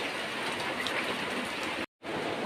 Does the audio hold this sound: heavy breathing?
no